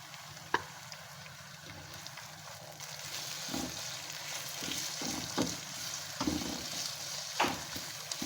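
Keema minced meat sizzles in a pan with garlic, ginger and cumin, a soft steady fry punctuated by several sharp spoon scrapes and stirring knocks.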